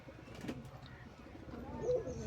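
Pigeons at a pigeon sale, including black-tailed females and males, coo in soft low repeated calls against a steady murmur of background noise, with a slightly stronger call near the end.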